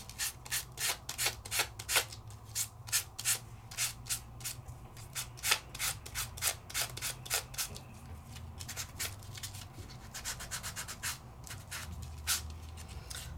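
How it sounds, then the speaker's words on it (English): Sandpaper scrubs back and forth over embossed vellum paper to bring out a raised design for a card. Soft, close, rhythmic rasping strokes repeat steadily, with a faint hum beneath. "that sandpaper is going to hit it, and you're able to sand off so you can see the design"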